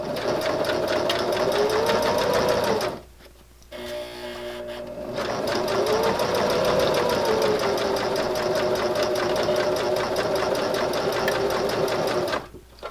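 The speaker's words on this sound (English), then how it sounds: "Here at the machine, we're just basting our pocket in place." A sewing machine basting a fabric silverware pocket in place with a narrow seam, its rapid steady stitching whir running close and loud, pausing briefly around the three-second mark before resuming for the rest.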